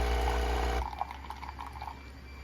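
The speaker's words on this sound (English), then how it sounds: "I'll put some extra warm water in there." A Nespresso machine pours extra warm water for an Americano: a steady hum first, then a soft trickle and drips as the flow tapers off, close and quiet.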